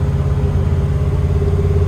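A truck engine idles steadily just after starting, a continuous low rumble with a faint mid-range hum, close and even throughout with no talking.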